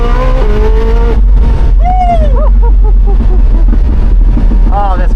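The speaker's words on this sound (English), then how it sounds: "The Jesko Attack is an absolute monster on the track." Koenigsegg Jesko Attack at speed on a race track, loud engine roar with rising and falling revs as gears change, heard close from inside the car, with talking over it.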